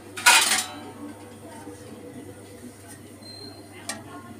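A lid clatters onto a metal container inside a steamer, one loud clanging clink followed by softer scrapes and a light tap later. A voice talks over it.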